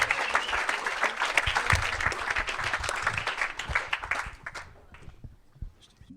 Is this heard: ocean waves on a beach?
no